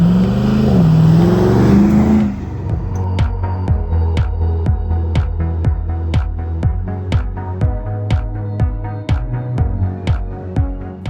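A restored 1991 Land Rover Defender 110 with an LS3 6.2L V8 and 6-speed automatic revs at first, then settles into a throbbing, rhythmic engine beat heard up close and loud, without speech.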